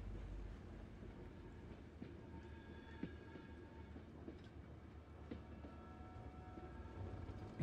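A train locomotive rolls along the tracks in the Blair Witch video game, with a continuous faint rumble, metallic creaks and occasional clacks at a steady pace, no talking.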